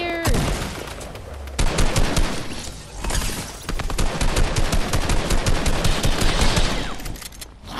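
Sustained automatic gunfire in the Fortnite video game, rapid loud bursts with a brief pause near the start and again around the middle, then continuous shooting to the end.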